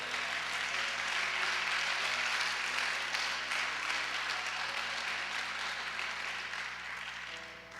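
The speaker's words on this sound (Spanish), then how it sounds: "Si yo fuera usted, aplaudiera al Señor." A congregation at a church service breaks into sustained applause, a thick, even wall of clapping that stays strong for several seconds and then eases slightly toward the end.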